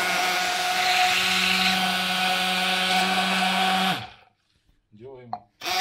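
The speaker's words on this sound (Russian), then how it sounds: "собственно говоря, блендер." Electric blender pureeing soup with dumplings, a loud steady high whir lasting about four seconds before cutting off, followed by a brief voice.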